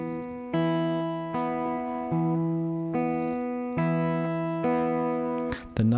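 Slow fingerpicked electric guitar pattern from a song, steady plucked notes ringing and sustaining in a repeating cycle, close and clear with no talking.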